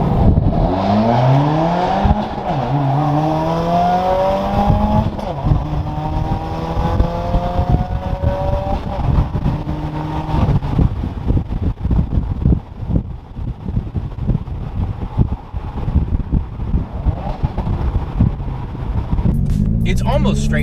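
A dyno-tuned 300HP Subaru WRX with a near straight-pipe exhaust revs and accelerates through rising engine pulls, loud and close, with wind buffeting; a voice speaks briefly over the engine.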